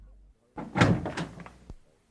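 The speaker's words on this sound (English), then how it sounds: "Holmes got up and opened the door" A door opens as a sound effect in an audiobook, a short wooden creak and clunk after a moment of quiet, ending in a single sharp knock.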